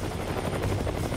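A Russian military helicopter flies over a war-torn Ukrainian city, its rotor producing a loud, continuous thudding roar with rapid beating that holds steady throughout.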